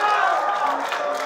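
A rap battle crowd cheers and applauds, a dense burst of roaring voices and clapping, loud and close, filling the whole short moment.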